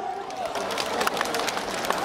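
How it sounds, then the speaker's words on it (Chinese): Applause from an outdoor audience at a Zhangjiajie Xiangxi song-and-dance show, a steady broadband patter of many hands clapping continuously for about two seconds at moderate level, with scattered louder claps. "支持我们3号的掌声"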